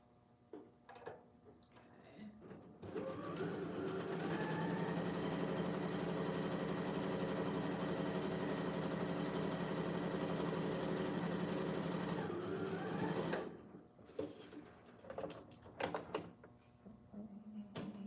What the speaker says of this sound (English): I'm gonna go ahead and try to sew the cup in.